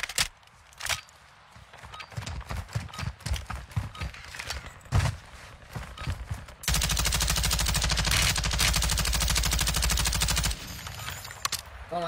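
Rapid video-game gunfire: scattered shots and bursts, then a long sustained loud automatic barrage that cuts off near the end.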